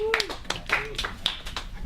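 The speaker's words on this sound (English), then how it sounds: "Let's give Phil a round of applause, you guys." A small room of people claps briefly for a guest at the end of a class session, with speech heard over the quick, close, uneven claps.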